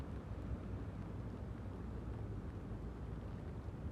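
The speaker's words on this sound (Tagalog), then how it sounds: "Mahangin siya." Steady wind by the sea buffets the microphone with a dense, low, continuous roar that stays loud and unbroken throughout, with no voices heard.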